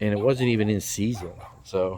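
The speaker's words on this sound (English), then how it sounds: "That's the neighbor's dog." A neighbor's dog barks a few times on a small orchard homestead, the yips overlapping someone talking nearby.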